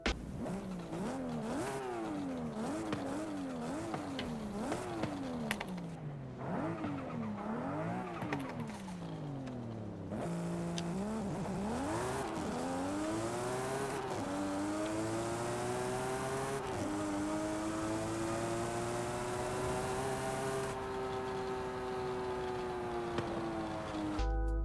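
A Nissan Skyline GT-R with its RB26 engine in Forza Horizon 5 revs hard through repeated rising and falling gear pulls, then holds long climbing wails, loud and close throughout with no talking.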